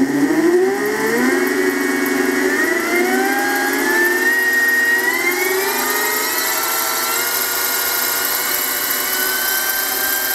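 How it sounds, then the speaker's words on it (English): Brushless motor fitted to a Harbor Freight mini mill spins up from a slow start, its loud, steady whine climbing in pitch over several seconds and then holding at speed alone. "that's the sound of the motor."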